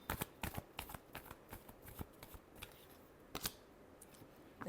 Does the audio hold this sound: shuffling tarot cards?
yes